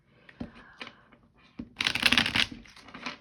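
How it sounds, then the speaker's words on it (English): A Journey of the Ancients card deck is shuffled by hand, a few soft taps giving way to a short, close riffling burst, then lighter card sounds. "shuffle Journey of the Ancients by Linda Apple"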